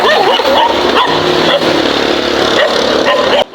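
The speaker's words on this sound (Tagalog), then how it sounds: "Kadaming aso guys." Several dogs bark and yip at a house passed on a street, loud and close in overlapping bursts, mixed with whimpers, traffic noise and some voices.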